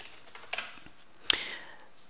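A few quiet, scattered clicks come from a computer keyboard as a command is typed into an Ubuntu terminal, one keystroke landing more sharply than the rest.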